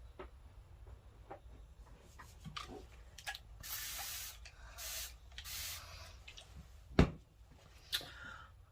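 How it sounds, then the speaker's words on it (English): A spray bottle spritzing water onto a watercolor painting, several soft hissing bursts in quick succession, close and fairly quiet, followed by a sharp tap and a small click, with no talking. "Spritz this."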